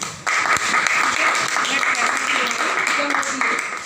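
Seated audience at a direct-selling business presentation breaking into sustained applause that starts abruptly and continues steadily, loud and close, with a voice speaking over the clapping.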